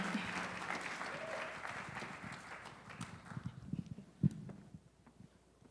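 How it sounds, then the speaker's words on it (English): Audience applause at a Dr. Martin Luther King Jr. Day celebration and awards event, a dense burst of clapping that gradually thins out and fades over several seconds, with a few scattered claps and faint voices near the end. "Please give them a round of applause."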